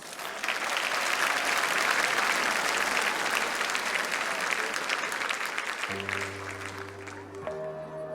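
Warm audience applause fills a concert hall at a Crimean Tatar book fair concert, welcoming a singer; dense steady clapping runs for several seconds, then fades as instrumental music begins.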